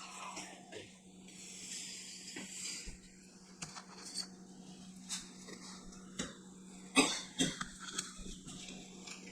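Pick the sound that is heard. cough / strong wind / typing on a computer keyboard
cough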